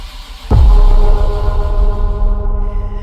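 A budget 6.0 LS engine cranks on its first start, bursting in loud and close after a half-second of quiet and churning steadily with a low, heavy rumble.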